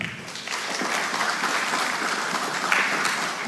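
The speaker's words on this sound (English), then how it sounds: "Applause for them." Audience applause at an inter-college debate competition as participants for and against the motion come up, a steady dense clapping wash that holds evenly throughout with no speech over it.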